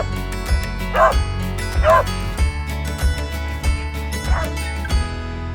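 Several excited dogs bark and yip in repeated bursts at a gate, with whimpering yips between the louder woofs, close and fairly loud over steady background noise and some low voice-like sound.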